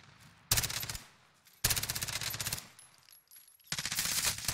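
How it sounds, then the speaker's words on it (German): Automatic gunfire in a video game rattles out in three loud, rapid bursts separated by short quieter gaps, close and sharp with no talking over it. "Karuda hat was geschossen"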